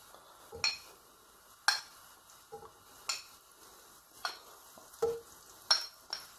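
Butter dropped into two tablespoons of hot cooking oil in a pan over medium heat, giving a soft steady sizzle broken by several sharp stirring and utensil clinks, with no one speaking.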